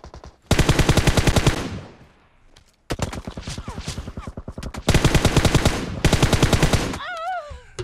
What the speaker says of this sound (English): He's got a Tommy gun.